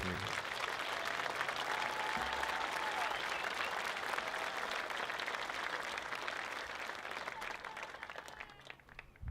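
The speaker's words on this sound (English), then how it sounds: "Please join me in a round of applause honoring the hard work and achievements of the class of 2023" Sustained audience applause fills a high school commencement ceremony for the class of 2023, a dense, even wash of many hands clapping that holds steady and tapers slightly at the end.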